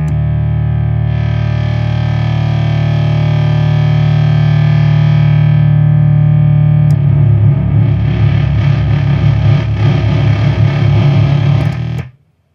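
A Heretic Effects Drone Box sustains a thick, distorted drone through a filter, steady and loud, turning grittier and more textured partway through before cutting off abruptly near the end.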